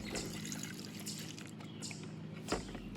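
Liquid rust remover being poured into a metal arcade machine part for soaking, a steady close trickling and splashing stream with a brief louder slosh near the end.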